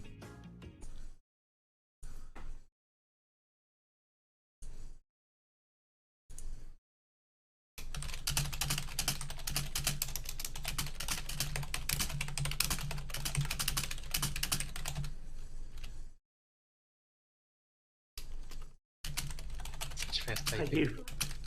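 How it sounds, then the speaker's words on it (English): Furious typing on a computer keyboard, dense rapid key clatter in a long sustained burst with several short bursts before and one after, separated by silent gaps, close and loud. "furious typing."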